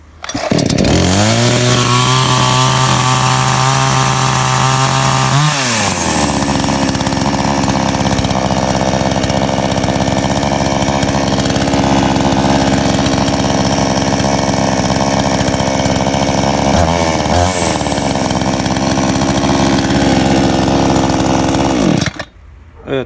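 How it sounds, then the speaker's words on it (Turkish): A gasoline chainsaw engine runs loudly and steadily, with a few revving surges and dips before it cuts out near the end. "Motorumuz çalışıyor arkadaşlar."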